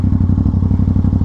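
Aprilia RS660 sport motorcycle riding through open sweeping curves, its engine a steady, loud, close drone with a fast regular pulsing beat throughout.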